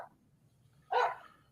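A small, elderly dachshund and Chihuahua mix dog gives a single short, sharp bark close by, heard after a brief faint sound and otherwise quiet surroundings.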